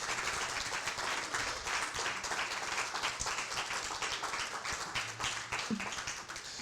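Church congregation applauding during a worship service, a sustained, dense patter of many hands clapping at moderate distance and continuing throughout.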